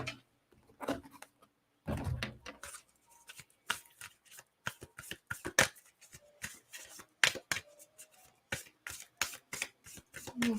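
Tarot guidance cards are shuffled by hand in close, quiet bursts of riffling and soft slaps, with irregular pauses between handfuls.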